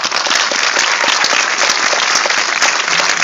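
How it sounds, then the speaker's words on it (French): A cinema audience at a film premiere in Bordeaux gives actress Lolita Offenstein dense, steady applause that holds loud and unbroken throughout. "Vous pouvez l'applaudir, oui, vous pouvez l'applaudir très très fort."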